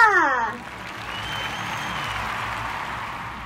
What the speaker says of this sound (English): Let's give a round of applause for Gardong Gagamba!